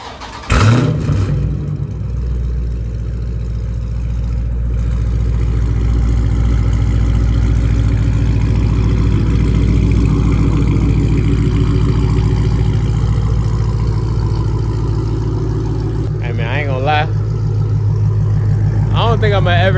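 Dodge Scat Pack muscle car engine running loud and close, with a steady low idle rumble and revving throughout, and people talking over the engine noise.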